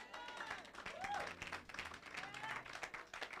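A church congregation claps together in a large hall, a sustained patter of many hands with voices and some singing-like tones mixed in, moderately loud throughout.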